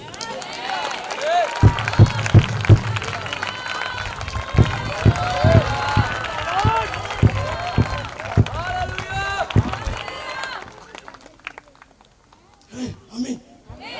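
Thumping, stomping footfalls from a crowd jumping at a prayer festival, landing in an uneven repeated rhythm under loud voices and shouting, then breaking off near the end.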